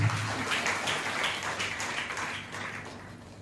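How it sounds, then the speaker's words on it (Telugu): Audience at a Telugu devotional talk clapping together, a dense steady patter of many hands that carries through and slowly fades toward the end. "చెప్పంటే చప్పట్లు కొట్టండి ఒకసారి."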